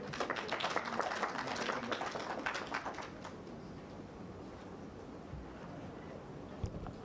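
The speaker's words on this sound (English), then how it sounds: "Another round of applause, ladies and gentlemen," Audience applause at an economic update launch event, a burst of clapping for about three seconds that fades into a quiet room hum, with a faint tap near the end.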